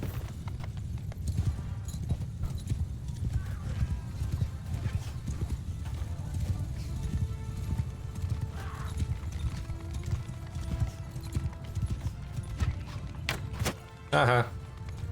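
Horse hooves clip-clop steadily through a battle in the video game Mount & Blade II: Bannerlord, with an occasional whinny and a brief mechanical clatter near the end.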